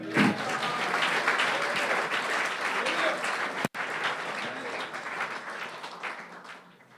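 A church congregation applauds, sustained clapping from a crowd filling the room, loud and steady, with a brief dropout midway before it continues and fades toward the end.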